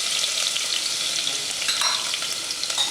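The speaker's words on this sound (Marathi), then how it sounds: "ठेचलेला लसूण टाकायचा" Crushed garlic hitting hot oil in a pan, a loud, close, continuous sizzle with faint stirring and no voices.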